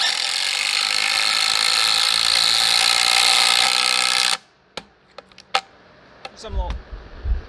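Skil and DeWalt cordless impact drivers racing to drive screws, a dense loud whirring and hammering that stops abruptly, followed by scattered clicks and clatter nearby.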